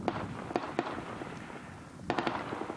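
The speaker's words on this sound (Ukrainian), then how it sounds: "Сразу одиночними стріляють, стрілковим, потім крупнішим." Small-arms gunshots crack out in scattered single and double bursts on the Donbas front line, then a quicker cluster of shots near the end, fairly close with no talking.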